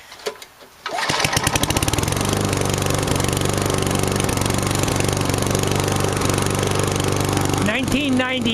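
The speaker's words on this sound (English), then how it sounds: "'90 mower, starts every time." A 1990 lawn mower engine cranks and catches after a few quiet knocks, then settles into a loud, steady close-up running drone that lasts several seconds before a voice briefly speaks over it.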